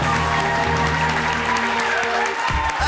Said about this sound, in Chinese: 姐姐，掌声鼓励！